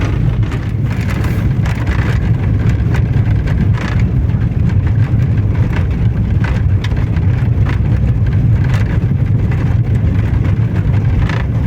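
A car drives along a village street in Ukraine, with a steady, loud road rumble and engine drone throughout and a constant wash of tyre noise. Occasional light knocks come through, and no one speaks.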